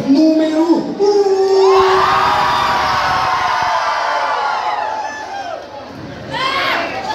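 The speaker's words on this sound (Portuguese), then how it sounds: "Cadê o grito para o casal número 1?" A packed crowd at a beiradão dance contest screams and cheers loudly for a dance couple, a sustained roar of shouts and whoops that fades slightly before rising again, with an announcer's voice at the start.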